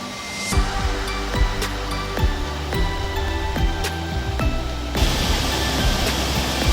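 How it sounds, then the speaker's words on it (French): Waterfall at Cascade des Brochaux roaring as a loud, steady broadband rush throughout, with some sharper tonal and tapping sounds layered over the constant water noise. "Les cascades des Brochots."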